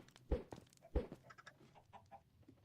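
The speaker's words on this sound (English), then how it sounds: "I hear chickens." Chickens cluck in the video game Minecraft, with two louder bursts close together followed by softer scattered clucks, all fairly faint, with no talking over them.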